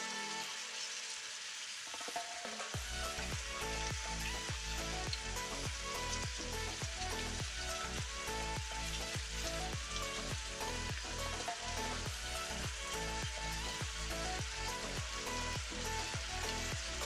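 Crumbled ground meat frying in a pot for Texas-style chili, a loud continuous sizzle with rhythmic scraping stirs after a brief quiet start, no talk.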